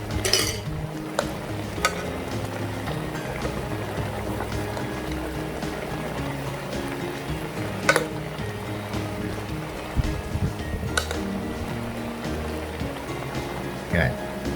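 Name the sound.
shrimp cooking in pan, turned to other side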